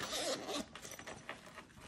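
A school pencil case with three compartments is zipped shut, giving a quick rasping zip followed by softer short zipping strokes close by.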